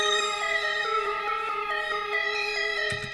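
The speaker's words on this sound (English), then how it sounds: "So I just layered the first sound with this Baby Cries polysynth out of X-Band" A layered synth melody built in FL Studio with the Baby Cries polysynth from X-Band plays stepped, sustained bright tones, moderately loud, with no voices.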